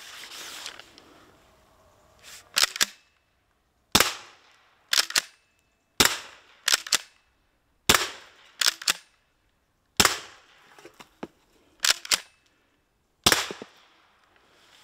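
A 0.68 cal air gun fires aluminium balls at tin targets with about nine sharp, close cracks. Each is spaced a second or two apart and often paired with a quick second snap, over otherwise quiet surroundings.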